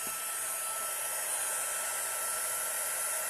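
A heat tool blows a steady, loud, close whoosh of hot air, like a hair dryer, over gold embossing powder on handmade Christmas tags, running continuously without a break.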